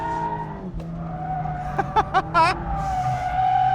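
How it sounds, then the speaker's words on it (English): A Mazda MX-5 GT RS drifts on a track, its tires squealing in several short bursts over a steady engine drone, recorded close from the car. "just simply hold the brakes a little bit longer on the way in, and the back comes around beautifully"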